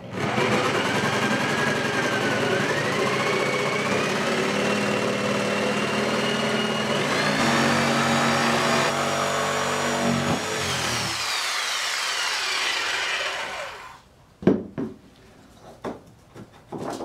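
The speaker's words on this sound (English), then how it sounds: "Now I'm going to use a jigsaw to do this." A jigsaw makes straight cuts through a tabletop, giving a steady, close, loud motor buzz for about fourteen seconds, then stopping, followed by a few scattered knocks and handling sounds.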